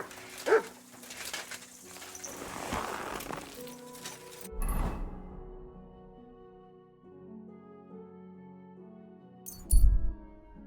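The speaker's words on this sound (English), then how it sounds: "You silly dog." A dog in the video game Kingdom Come: Deliverance 2 gives scattered barks and soft whimpers between quieter stretches, with a louder yip near the end against faint background music.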